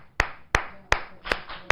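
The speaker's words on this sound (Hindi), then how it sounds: "बजा ताली हाँ" Five sharp, evenly spaced hand claps, loud and close, with nothing else between them.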